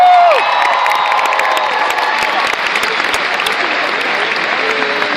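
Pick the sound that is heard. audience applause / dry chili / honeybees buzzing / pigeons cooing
audience applause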